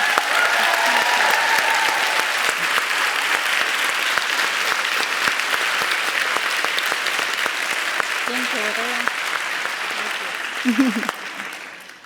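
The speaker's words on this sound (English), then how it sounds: "please give them a big round of applause" A live audience gives a long, full round of applause for a guest's first international interview alongside Malala's parents, steady and loud, tapering off near the end as a voice briefly speaks.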